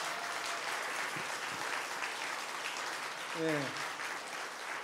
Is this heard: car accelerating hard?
no